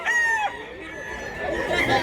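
Chickens and roosters at a Thursday poultry market in Mantalungon, Barili, Cebu, with several birds crowing and clucking close by in a steady, overlapping chorus and faint crowd chatter behind.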